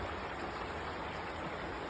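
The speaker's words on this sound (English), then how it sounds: "Here's the local creek." A small local creek in East Palestine, Ohio flows steadily over rocks, making a continuous broadband rush of water that stays even and close for the full two seconds, with no voices.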